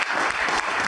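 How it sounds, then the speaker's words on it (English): A conference audience applauds its session speakers, a dense, steady wash of clapping that holds at full strength through the short moment, close and loud with no voices over it. "Can you give another round of applause for our speakers and all of us here?"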